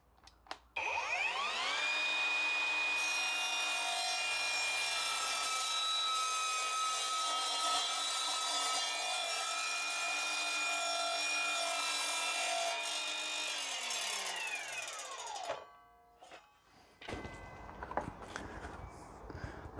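An Evolution 36V cordless double-bevel sliding mitre saw spins up and cuts through wood, a loud steady high-pitched whine lasting about fourteen seconds before winding down, followed by faint handling clatter.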